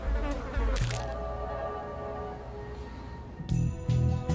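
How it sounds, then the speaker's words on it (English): Stable flies buzz steadily around a person outdoors, a continuous close droning hum with a few sharp cracks near the start and end. "They've left powder all over the place. They're all over me and biting. The stable flies are probably the guilty party."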